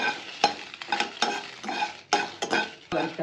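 Urad dal lentils are dry-roasted and stirred in a pan, giving a steady scraping with light sizzling and a metal spoon tapping the pan in uneven strokes. No one talks over it.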